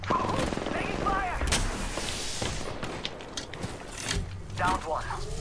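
Rapid gunfire crackles in a sci-fi battle royale shooter in the style of Apex Legends, several bursts of shots and mechanical clatter at moderate distance while players talk over it.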